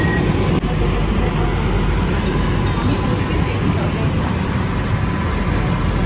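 Steady, loud rumble and rattle of a moving passenger train heard from inside the carriage, continuous for the whole stretch, with faint voices in the background.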